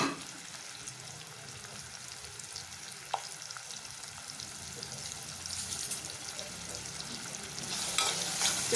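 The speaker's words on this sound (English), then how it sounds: "I will throw my onions in and let this fry" Onions fry in a pan, a soft, steady sizzle close by with light stirring scrapes and a brief clink, growing slightly louder toward the end.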